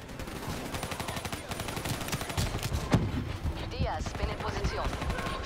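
Rapid bursts of automatic gunfire from the Call of Duty Black Ops 3 video game rattle continuously, dense volleys with scattered sharper shots, at moderate level throughout.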